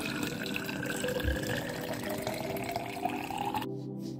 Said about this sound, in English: To this, I add a half liter of water.